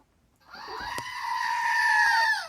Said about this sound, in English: Well, we'll do a goat thing here.